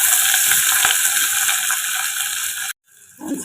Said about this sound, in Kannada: 1 ಈರುಳ್ಳಿ, ಒಂದು ಸೈಡ್ ಈರುಳ್ಳಿ ಹಾಕ್ಕೊಳ್ಳಿ. ಇದನ್ನು ಫ್ರೈ ಮಾಡ್ಕೊಬೇಕು.